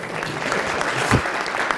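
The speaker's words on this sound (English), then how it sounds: "y'all better give her applause" Audience applause in a hall, a brief burst of steady clapping with a faint voice underneath.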